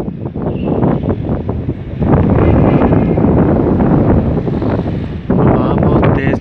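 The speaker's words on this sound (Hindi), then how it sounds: "हवा बहुत तेज़ चल रही है" Strong wind blowing across an open shrine courtyard in Rawalpindi makes a loud, continuous rushing roar, with gusts strengthening around two seconds in and again near the end.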